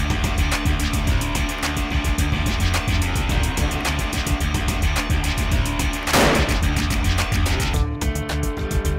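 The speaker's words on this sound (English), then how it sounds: "make sure the sights on our rifles were not disturbed in transit and get ready to do some accurate shooting" Rifles being sighted in before an antelope hunt, heard as loud, dense, continuous gunfire with rapid repeated cracks and a strong reverberant blast partway through.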